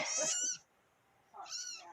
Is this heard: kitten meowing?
yes